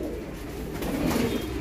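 A flock of homing pigeons coos low and steady in a loft, a soft continuous murmur with no voices.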